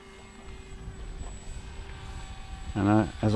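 Electric motor of a Bixler 2 foam RC airplane in flight, a steady whining drone with a thin high tone, heard from a distance under wind noise, with a brief voice near the end.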